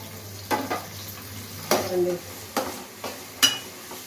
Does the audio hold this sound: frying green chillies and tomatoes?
yes